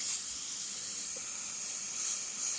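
An airbrush sprays Createx Illustration Colors paint onto Blair synthetic paper with a steady, close, soft hiss that runs on without a break.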